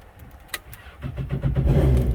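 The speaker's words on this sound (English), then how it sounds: "when you put it back in, it starts" A Yamaha jet boat engine cranks and catches, building from a few faint clicks into a steady, loud running rumble that holds to the end, with no talking.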